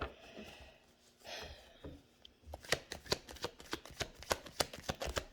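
Deck of cards being shuffled up close, soft rustling at first, then a rapid run of crisp, evenly spaced riffling snaps in the second half.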